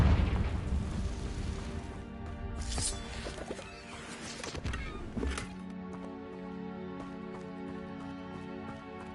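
A Confringo fire spell in Hogwarts Legacy bursts with a loud booming blast, followed by crackling and smaller pops, then a quieter sustained rumble with faint rhythmic tones; no talking.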